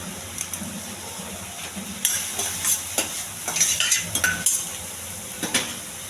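Cucumber pieces fry in a pan with a low sizzle, while a utensil stirs them in clustered metallic scrapes and clinks that grow busier halfway through.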